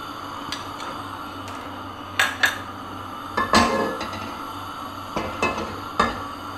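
A pan is set down and handled on a stove with several sharp metallic clanks and clinks spaced irregularly over a quiet kitchen background, with no talking.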